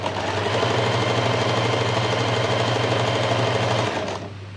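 A sewing machine stitching heavy blouse hangings runs in one steady, fast mechanical hum for about four seconds, then stops abruptly, leaving quiet room noise.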